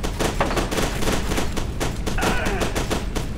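Rapid gunfire from the shooter game F.E.A.R. 2, dense bursts of shots crackling steadily throughout without a pause, loud and close, with no voices over it.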